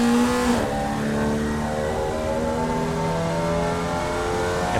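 A Rookie Formula race car in the iRacing simulator drops into second gear. The engine blips and revs up hard, then holds a loud, steady whine with shifting harmonics, heard close and alone without talk.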